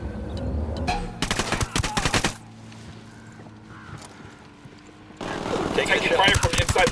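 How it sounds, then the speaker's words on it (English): Gunfire from Ghost Recon Wildlands: dense bursts of automatic fire with loud, close shots in the first two seconds, a quieter lull with distant rumbling, then sustained heavy firing returning toward the end. "Taking fire from inside the watchtower."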